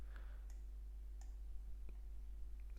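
Sharp computer mouse clicks on a desk, a few isolated taps spaced irregularly over a steady low hum, fairly faint and with no talking.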